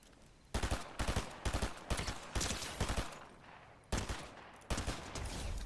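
Thunderburst weapon gunfire in Fortnite Zero Build, heard as loud bursts of rapid shots in several clusters with short gaps between, fairly close and with no talk over it.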